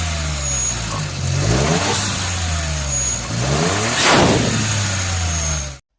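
A turbocharged car engine revs up and down twice, loud and close, with the whoosh of the blow-off valve releasing pressure as the throttle closes.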